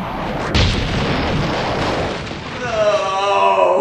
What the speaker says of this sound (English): You shoot the controller computer and the satellite blows up?